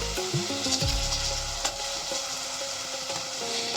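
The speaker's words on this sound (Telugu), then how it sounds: "ఇప్పుడు ఇందులోనూ చేప ముక్కలు వేసేసుకుందామండి." Sea fish pieces fry in hot oil in a pan, with a soft continuous sizzle and a few scraping clatters near the start as the pieces go in, with no voices.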